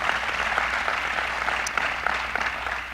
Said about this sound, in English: give him another round of applause, County Executive Bellone.